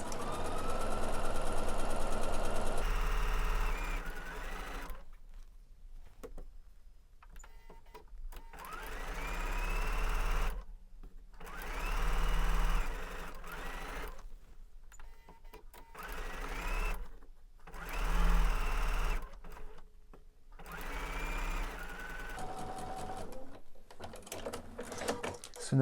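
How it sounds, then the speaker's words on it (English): A domestic sewing machine chain pieces quilt blocks, running in steady motorized bursts with short pauses as each block is fed through without cutting the thread, fairly close and clear. "we're just going to not cut our thread and just continue feeding more blocks in"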